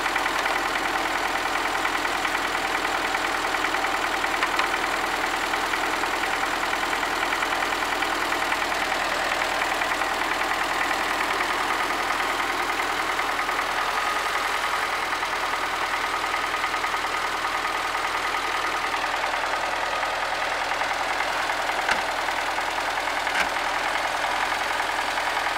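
An MTZ 80 tractor fitted with a blade sits in a frozen field, its diesel engine idling with a steady, continuous drone and faint knock throughout, close and unchanging with no talk.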